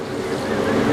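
Water poured from a container into a cooking pot of hard vegetables, roughly three litres, a steady broadband rushing splash that builds slightly toward the end, with no voices.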